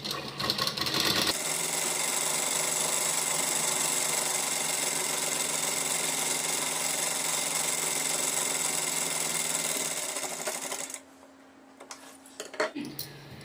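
A sewing machine runs a long continuous stitch on a suit lining, a steady close whir for about nine seconds that then stops, leaving faint handling noises.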